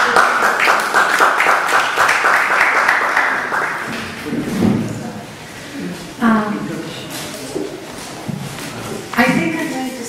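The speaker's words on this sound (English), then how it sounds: "So an applause to each of you all again" Conference audience applause starting as dense, steady clapping and thinning out over several seconds, with a speaker's voice and some bumps coming in as it fades.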